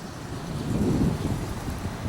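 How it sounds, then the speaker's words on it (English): Strong wind blows by a lakeside river channel with a strong current, a steady low roar and buffeting that swells near the middle of the short stretch, with no talking. "It's a nice wind today."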